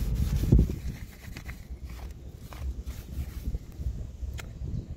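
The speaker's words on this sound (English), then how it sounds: "I've sanded it down so you can't see the line anymore." Hand sanding on a Coban explorer kit guitar body, soft irregular rubbing and scraping strokes up close at moderate level, with a few light knocks and handling noises, no talk.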